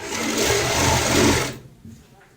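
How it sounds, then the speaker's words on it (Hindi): A sewing machine whirs steadily while stitching a pillow cover, running loud and close for about a second and a half before stopping abruptly into quiet. "इस तरीके से दोस्तों हमने यहाँ पे ये सिलाई लगा ली है।"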